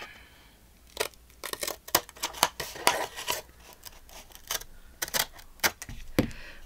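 Scissors cut material for a handmade journal's front cover plate, producing irregular, close snips and crisp blade closures with soft rustling of the material between cuts.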